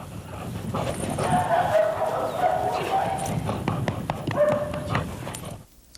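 A trained police dog of the kind used by law enforcement agencies gives several sharp barks, heard under a narrator's voice.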